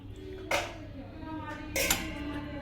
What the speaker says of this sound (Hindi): इसको चला रही हूँ मैं